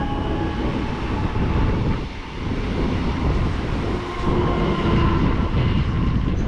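At Warszawa Toruńska, the Intercity Delfin to Łeba, hauled by EU160 locomotive 062, rumbles past close by in a continuous loud roar with brief dips and faint rail clatter, and no talking.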